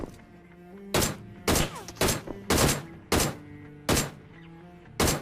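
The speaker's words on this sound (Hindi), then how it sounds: "और तभी मेरे को फायरिंग होती है वहाँ से।" Gunfire in PUBG Mobile: about eight sharp, loud shots spaced roughly half a second apart, each with a short booming tail, over a faint background hum.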